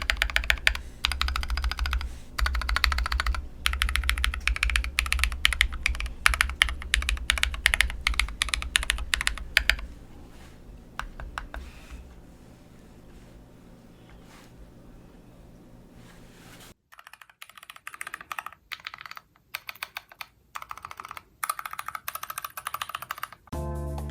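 Typing on a Glorious GMMK numpad fitted with Akko Matcha keycaps, close up and with no talking: a long run of dense, rapid clacks, then a quieter stretch and a later burst of sparser key presses.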